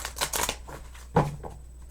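Power of Surrender oracle cards shuffled by hand, a few quick riffling bursts up close followed by a single sharper slap of the deck, then quieter rustling.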